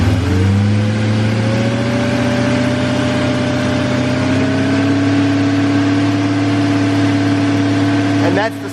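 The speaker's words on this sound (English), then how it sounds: "So on these, if you rev it," A BMW E34 540i V8 is revved up close, its steady loud tone climbing slowly in pitch and holding high before cutting off at the end, with someone speaking briefly over it.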